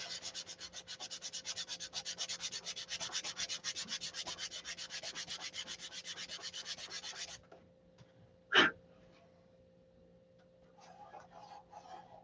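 An aircraft wing being hand-sanded with 320 grit sandpaper: rapid, even back-and-forth rubbing strokes for about seven seconds, then it stops, followed by a sharp knock and faint rustling.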